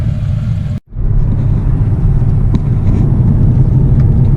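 A truck with tall exhaust stacks rumbles past, its low engine drone steady and fairly loud after a brief dropout near the start.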